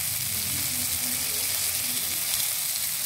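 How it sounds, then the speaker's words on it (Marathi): Surmai fish frying in oil over a low flame, giving a steady, even sizzle that holds at a constant level throughout with no voices. "आणि हे असं तेलामध्ये मंद आचेवर 2-3 वेळा परतून घ्यायचं."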